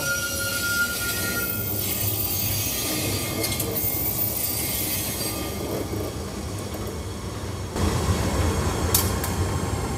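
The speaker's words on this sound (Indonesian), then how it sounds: "Oh, ini dia lokomotifnya kereta api Matarmaja." The Matarmaja train's locomotive and cars roll past at Jatinegara station, a loud continuous rumble of wheels on rails with high metallic squeals, swelling louder toward the end.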